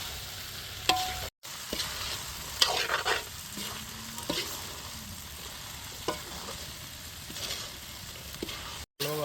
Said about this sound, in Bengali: এখন আমরা বুট ঢেলে দিব।